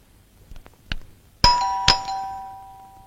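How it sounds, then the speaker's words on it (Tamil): A doorbell in a house during a card game, a few faint taps then two loud bright ding tones ringing out clearly with a lingering decay. "காலிங் பெல் அடிக்குது"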